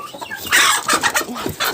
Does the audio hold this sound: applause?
no